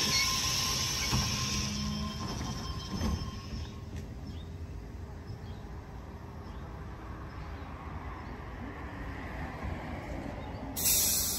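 A Sydney train at Leumeah station platform gives a steady rolling rumble with faint wheel and rail noise, a brief squeal and a short hiss burst near the end.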